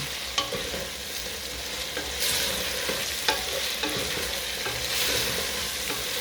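Chicken frying in a pan as a utensil stirs it, with a steady close sizzle broken by periodic scraping knocks against the pan. No voices.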